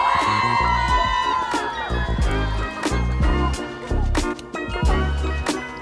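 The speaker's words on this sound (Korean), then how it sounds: "김혜수 유영선 씨께 다시 한번 큰 박수 부탁드립니다" An awards-ceremony crowd applauds and cheers for two hosts, Kim Hye-soo and Yoo Yeon-seok, loud and sustained over booming music with strong low beats, whoops rising through the mix.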